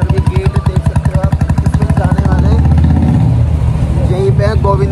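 A motorcycle starts and rides into a narrow, crowded lane near Govind Dev Ji Temple in Jaipur, its engine pulsing steadily up close before settling into a louder continuous rumble, with someone talking over it.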